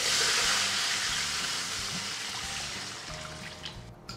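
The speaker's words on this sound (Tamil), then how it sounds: "அந்த தண்ணியை ஆட் பண்ணுறோம்." Water poured into a pan of sambar cooking with turmeric, onions and tomatoes makes a steady broadband splashing rush, loud at first and slowly easing, with no voices.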